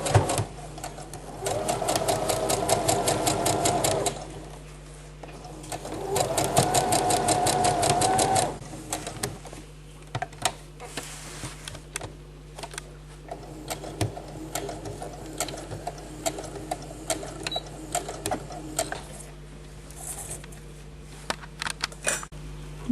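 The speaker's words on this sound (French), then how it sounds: "nous allons coudre à 1 cm du bord et en marquant bien l'angle avec la couture" A sewing machine stitches a seam on a polyester dress in two sustained rapid whirring runs of a few seconds each, followed by scattered softer clicks and handling noise.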